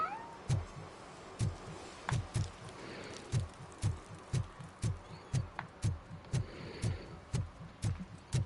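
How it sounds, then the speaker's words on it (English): A cat meows in the video game RoboCop: Rogue City over a steady, regular throbbing beat, with faint high cries above the repeating low pulses and no talk. "Kitty cat."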